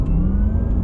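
Porsche Taycan Turbo electric car accelerating in Sport Plus mode with its synthesized sport sound, a loud, steady low hum with a faint rising tone, close and alone.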